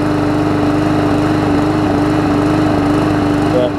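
A Briggs OHV 300E engine on a Hyper Tough push mower runs at a steady, loud, buzzing drone close by, still burning off oil in the exhaust after a flywheel key replacement, with no talking.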